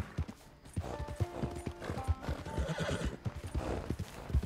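In Red Dead Online, a horse neighs with a clear, drawn-out whinny over the rapid drumming of its hooves as it runs, all close and fairly loud with no talk over it.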